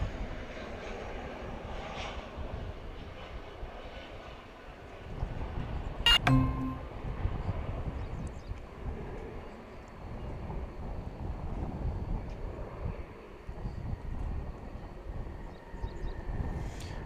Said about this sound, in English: Airbus A319 coming in from Sioux Falls.